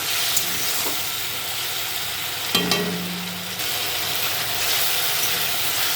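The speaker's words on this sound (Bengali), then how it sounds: "অল্প অল্প করে জল দেবো আর নাড়তে থাকবো বারে বারে।" Spiced potatoes being stirred in a pan as water goes in a little at a time, a continuous close sizzle with scraping and a sharp clatter midway, no voices.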